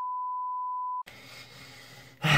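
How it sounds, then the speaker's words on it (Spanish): Censorship beep: a single steady pure tone lasting about a second, loud and isolated against silence, followed by faint room noise and a louder burst at the end. "Seguramente esta palabra que acabo de decir la censuraré con un pitido"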